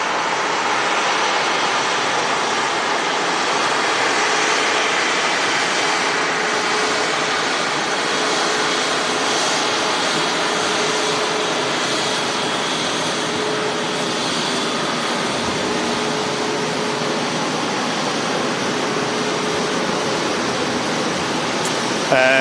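A jet airliner rumbles past at Manchester Airport, its loud, broad roar holding steady for over twenty seconds, with no talking.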